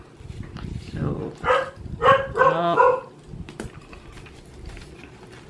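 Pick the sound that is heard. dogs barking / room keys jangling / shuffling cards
dogs barking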